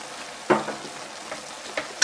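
Chopped green onion hits a hot pan and sizzles in short bursts, with quick stirring crackles recurring every half second or so, close and fairly loud.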